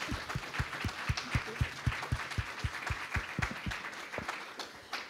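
Fairly faint applause from a small audience at an artist conversation event, with distinct, regular claps forming a steady patter for a few seconds before tapering off.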